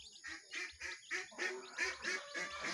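Newly hatched Rhode Island Red crossbred native chicks peep in a close, busy chorus of high, repeated chirps that come in quick bursts with no talking.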